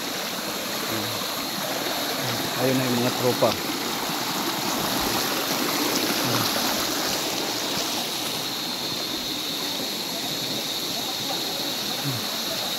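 A river runs as a steady broadband rush of flowing water on an outdoor hike. Someone speaks briefly over it near the start.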